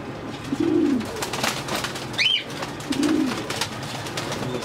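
A male pigeon coos twice in low, rolling calls a few seconds apart, close and clear over a steady background hum, with a brief higher chirp between the coos.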